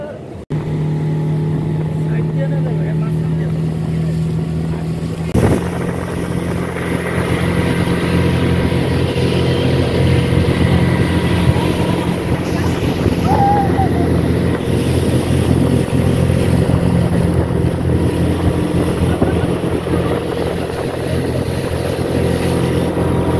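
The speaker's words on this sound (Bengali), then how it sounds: "এখন যাচ্ছি স্পিড বোটে উঠতে" A speedboat engine drones steadily and loudly throughout a ride, a constant low hum with a sharp knock partway through, while people talk faintly over it.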